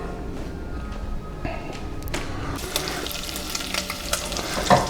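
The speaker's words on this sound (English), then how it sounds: "as you can see, we have the bacon rendered." Bacon renders in a pot for clam chowder, giving a steady close crackling sizzle with occasional stirring scrapes and light taps against the pot.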